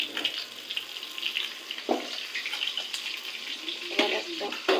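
Fish frying in hot oil on a home stove gives off a steady crackling sizzle, with a few sharper clinks and spatters standing out at moderate loudness.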